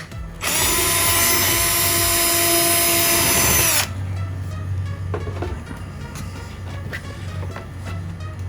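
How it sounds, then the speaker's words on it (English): A power drill bores a hole through metal while fitting a Boscam K7 wireless backup camera, with a loud steady whine lasting about three seconds. It then stops abruptly, leaving low hum and faint clicks. "What I want to do is I want to drill a hole."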